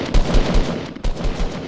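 Loud rapid gunfire in the Fortnite Battle Royale video game, two close bursts of fast repeating shots separated by a brief gap.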